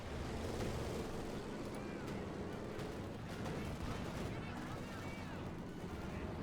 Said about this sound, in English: Troops being suppressed here, Mortar hammering away.